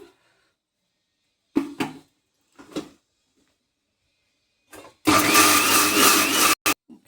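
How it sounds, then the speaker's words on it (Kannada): A loud mixer grinder whirs for about a second and a half grinding masala with water for chicken sambar, then stops abruptly, after a few soft knocks and clatters. "ಮಿಕ್ಸಿ ಮಾಡ್ಕೊಳ್ಳೋಣ."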